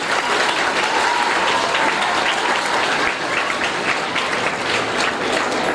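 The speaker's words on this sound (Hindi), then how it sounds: "जोरदार तालियां।" A crowd at a Shiv Sena tablet distribution event breaks into loud, sustained applause, dense clapping that holds evenly throughout.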